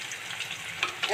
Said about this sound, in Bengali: পেঁয়াজটা একটু ভাজা ভাজা হয়েছে